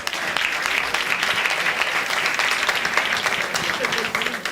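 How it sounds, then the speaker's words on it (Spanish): A conference audience in Granada breaks into applause, a lively, even stretch of many people clapping at fairly close range, with faint voices mixed in beneath it. "Un aplauso para él."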